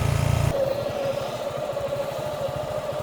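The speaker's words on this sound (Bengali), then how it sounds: "এখন নামতে যে ইঞ্জিনের শব্দ তো বোঝা যাচ্ছে যে গাড়ি যে কত কষ্ট করতেছে" A vehicle engine labours while descending a rough, broken road near Boga Lake, a steady rumble with uneven low pulsing from bumps, close and continuous throughout.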